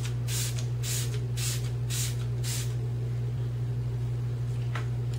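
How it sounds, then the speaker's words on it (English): Smashbox Photo Finish Primer Water misted onto a face in five quick spray bursts at a steady rhythm, close and crisp over a constant low hum, with one fainter puff near the end. "take the Smashbox Photo Finish Primer Water and spray this baby all over your face"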